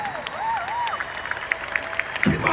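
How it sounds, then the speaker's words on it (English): A conference audience in Los Angeles applauds in a dense, steady wash of clapping with crowd noise, while a voice shouts and whoops over it and a loud thump lands near the end. "Come on, stand up and clap like you're going there."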